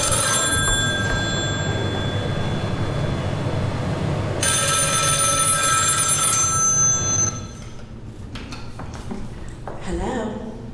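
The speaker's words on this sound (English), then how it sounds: "Is that my phone?" A telephone bell rings in repeated bursts indoors, loud and close, and then a person speaks briefly as the ringing stops.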